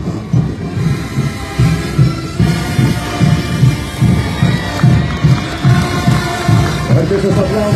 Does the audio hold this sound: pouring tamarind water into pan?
no